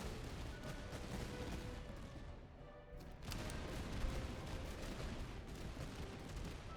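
Massed musket fire from soldiers in the Master of Command game, a dense, continuous crackle of distant volleys with a brief lull midway, then rolling on steadily.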